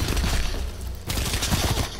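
Dense, loud burst of shotgun fire in the video game Call of Duty Black Ops 4 during a free-for-all match, with repeated blasts running through the whole stretch and a brief dip midway.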